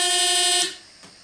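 The warning horn of a 24-metre model railway turntable sounds one loud, steady electronic blare for about half a second, then cuts off, leaving near silence with a faint click.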